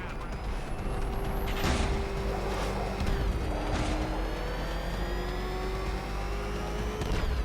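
A heavy armored car from the Batman Arkham Knight video game drones and revs in a steady mechanical roar, with pitch shifts and bursts layered over continuous game background noise.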